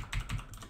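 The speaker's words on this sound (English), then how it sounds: "I'm typing around a microphone right now" Several quick keystrokes on a computer keyboard right next to a microphone, soft but close, clicking in a brief uneven burst.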